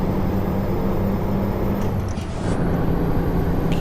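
Heavy truck driving in American Truck Simulator, a constant loud low engine drone and road rumble with a brief hiss near the middle, steady throughout and without talk.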